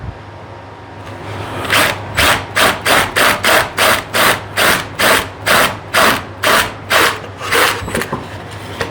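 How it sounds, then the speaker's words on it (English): A power drill whirs in quick repeated bursts while backing out a screw, about a dozen short pulses in a steady rhythm, loud and close. "Drill that the rest of the way out."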